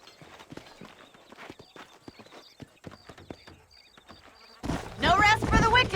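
Horse hooves clip-clop in Red Dead Redemption, a steady patter of hoofbeats with buzzing insects, then a sudden loud burst of other game sound takes over near the end.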